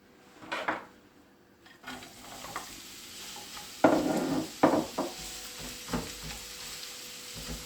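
Sliced red onion, cut into half moons, drops into hot vegetable oil in a pan and sizzles steadily, with a few sharp clatters and scrapes as it is stirred and broken up.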